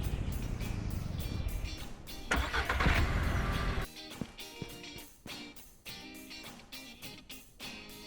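A small car in Ranch Simulator, fitted with a radio, runs with a steady mid-pitched engine drone that swells and roughens midway, then drops into a quieter idle broken by clicks and short knocks.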